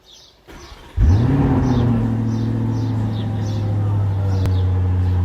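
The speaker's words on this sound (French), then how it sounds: "Écoutez le moteur, s'il vous plaît." A car engine starts quietly then accelerates into a loud, steady throaty drone, close by, with a brief rise in pitch.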